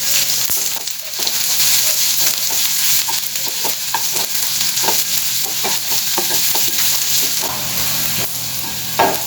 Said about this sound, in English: We will saute it till it is nice and translucent.